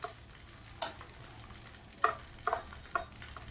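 Gram flour being mixed with spice filling by hand in a bowl, soft scraping and stirring with a few sharper taps and knocks scattered through, quiet and close with no talking.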